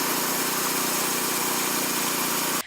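A tractor engine drones steadily and loudly while pulling an Abaco pine log, then cuts off abruptly at the end.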